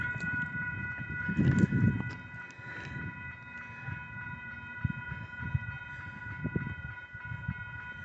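A BNSF southbound grain train on the Fresno sub nears a level crossing as the gates go down, the crossing bells ringing steadily over a low, distant rumble of locomotives.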